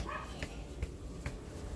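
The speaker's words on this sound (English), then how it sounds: "Oh, hey, there's Adventure Dog!" A few sharp dog barks spaced apart, fairly faint against a steady background hum.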